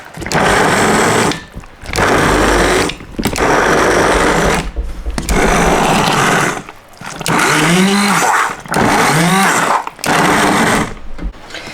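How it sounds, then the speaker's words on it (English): A blender purées soft simmered tomatoes in several loud bursts of grinding whir, each a second or two long and separated by brief pauses, with the pitch shifting as the mix thins. "Now it's just a case of blending it up."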